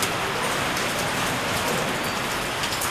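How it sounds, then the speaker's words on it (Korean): Rain falls steadily during a dry season, an even dense patter of drops hitting surfaces that holds at the same loudness throughout, with no voices. "한참 건기가 지속되는 기간인데 뜻밖의 비가 내리기 시작했습니다"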